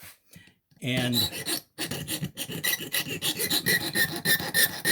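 A file rasps across the sharp edge of a stainless steel tang on a hose clamp in a quick series of close, gritty strokes, after one brief spoken word.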